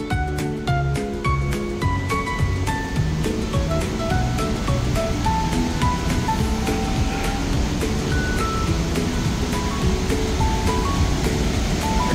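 Victoria Falls in Zambia roars as a loud, steady, broadband wash of falling water that fills the whole stretch without a break, close and overpowering, with faint tonal sounds drifting through it.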